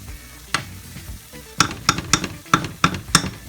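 A homemade gumbo roux browns in a pot. A low background sizzle is broken by a run of sharp utensil scrapes and knocks against the pot, about eight of them at an uneven pace, mostly in the second half. No one speaks.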